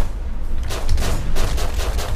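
Close, loud bursts of rapid gunfire crackle in a Rust Legacy gunfight, with repeated shots in quick succession over a rumbling background.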